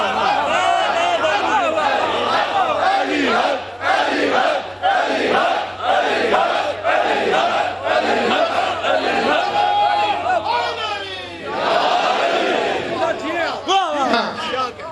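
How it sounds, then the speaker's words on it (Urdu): A large crowd at a Shia majlis loudly chants the slogan 'Ali Haq' in repeated, sustained group shouts that fill the whole stretch without pause. "اس نعرے سے انصاف کیا کرو علی حق"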